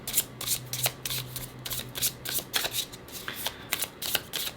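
Tarot cards being shuffled in quick, repeated riffling bursts, close up and crisp, with short pauses between shuffles.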